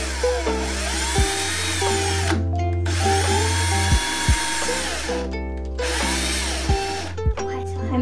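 A power drill whirs steadily in long continuous runs, stopping briefly a few times before starting again, close and loud, while an adult gives quiet guidance over it.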